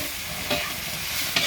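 Pad see ew of noodles, soy sauce, cauliflower, pork and eggs stir-fried over gas with a spoon and spatula: a steady sizzle throughout, broken by two brief scraping clatters of utensils against the pan.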